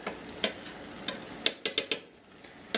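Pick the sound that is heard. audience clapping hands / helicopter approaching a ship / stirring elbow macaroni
stirring elbow macaroni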